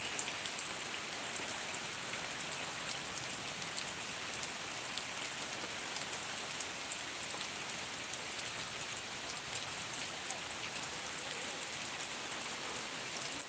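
Steady rain falls continuously, the first rain of the Bengali month of Boishakh, a dense even patter that stays constant throughout with no voices.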